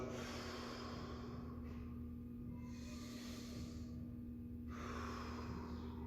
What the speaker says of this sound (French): j'inspire avec mon ventre, j'expire et je relâche.